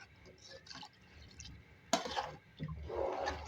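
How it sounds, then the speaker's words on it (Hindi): Water pours into a pot of chicken masala for taheri, a sudden splashing burst midway that settles into bubbling and trickling, faint and close, with a voice talking. "अब इसमें पानी ऐड कर रहे हैं।"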